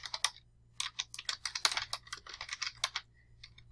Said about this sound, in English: I always do my typing first